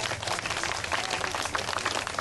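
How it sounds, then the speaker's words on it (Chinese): An audience applauding to welcome a saxophone teacher on stage at a school event, dense steady clapping from many hands, fairly close and continuous. "我们掌声欢迎王子豪老师。"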